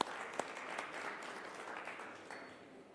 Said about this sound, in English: A round of applause for our partners and sponsors